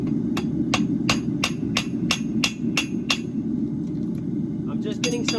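Hammer striking a hot iron bar at a forge while making a bar shoe weld, about nine sharp evenly spaced metallic blows, close and loud over a steady roaring fire hum, then a few lighter taps.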